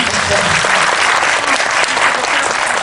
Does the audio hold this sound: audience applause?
yes